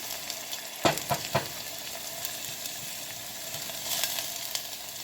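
Ingredients sautéing in a pan for Puerto Rican-style stewed beans, a soft, steady sizzle with a few sharp utensil clicks near the start, fairly quiet, no talking.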